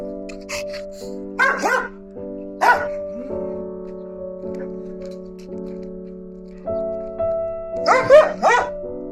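Several small dogs bark in short sharp bursts, with a few yips, over a steady humming background tone.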